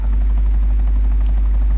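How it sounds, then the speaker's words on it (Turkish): A helicopter in GTA 5 drones steadily with a heavy low rotor thrum and a fluttering chop, loud and close, with no pause. "İndir helikopteri."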